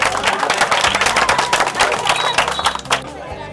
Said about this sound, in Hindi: चलिए जोरदार ताली मारिए इनको लिए।